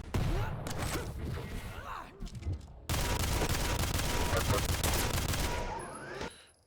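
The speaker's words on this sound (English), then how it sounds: "The starter machine gun and the rocket launcher" Rapid, continuous machine gun fire in a competitive arena shooter match, dense bursts broken by a short pause and then resuming loud and sustained before tapering off.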